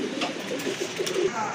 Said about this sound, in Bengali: আরেক জোড়া লাহোরি কবুতর